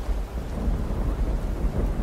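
A thunderstorm in an animated island comedy: heavy rain hissing steadily under a deep, continuous rumble of thunder, loud and close, with no talk.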